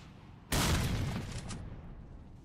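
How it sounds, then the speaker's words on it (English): A grenade goes off in the S.T.A.L.K.E.R. video game, a sudden loud blast with a broad noisy burst that lingers for about a second before fading into a low rumble. "Now it's time to throw a nice grenade."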